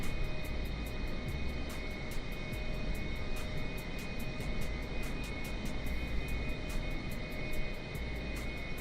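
Aircraft engines drone steadily on an airport ramp between Denver and Hartford, a continuous loud whine and rumble with a faint regular ticking throughout.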